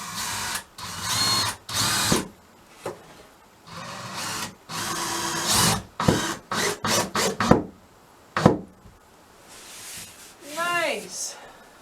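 A power drill drives trim screws into wooden accent-wall boards in repeated short bursts of whirring, with pauses and scraping handling noises between runs, and a few rising whine sweeps near the end.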